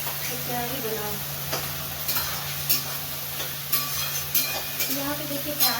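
Onion and garlic paste frying in a pan with browned onions, a steady sizzle with occasional stirring clicks and scrapes, while someone talks over it.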